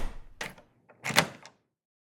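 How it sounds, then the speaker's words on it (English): An apartment door at Redwood Apartments shuts and locks with two separate close, sharp clunks and rattles, followed by silence. "I locked the door behind me"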